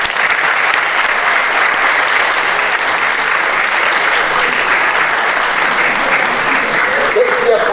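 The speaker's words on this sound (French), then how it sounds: "Vous pouvez les applaudir aussi." A church congregation applauds the musicians at a New Year closing Mass, a steady, dense wash of clapping that holds evenly and loudly for the whole stretch with no voices standing out.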